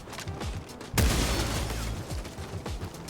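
A grenade goes off in Helldivers 2, one sudden loud boom about a second in that rumbles away amid scattered shots and crackling battle noise.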